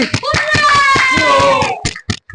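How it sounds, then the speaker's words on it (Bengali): Several people clap during a celebration for a contestant who won 300 taka in a colour-changing challenge. The clapping is steady and rhythmic over a bright tonal sound, then a few separate claps follow near the end. "তো ওর জন্য একটা বড় সড়ো হাততালি।"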